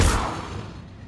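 Spells cast in the video game Hogwarts Legacy, an explosive blast followed by a downward slam: a single loud, sudden thump that decays quickly into a rumbling tail.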